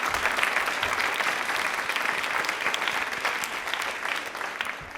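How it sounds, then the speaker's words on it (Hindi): An audience at a quiz event on government welfare schemes breaks into sustained applause, a dense, even patter of many hands clapping throughout. "तालियां इस स्कीम के लिए, इस पहल के लिए, प्रधानमंत्री जी के लिए जोरदार ले जाती है।"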